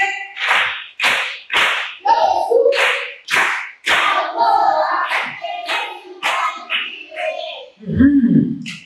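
A group of children clapping together for a child during a church children's lesson, a series of sharp, evenly spaced group claps in a steady rhythm, mixed with children's voices calling out between and after the beats.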